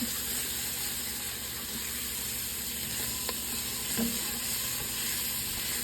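Lentil soup ingredients with turmeric cook in a pot, giving a steady, soft sizzle and hiss throughout with a faint clink or two, no talking.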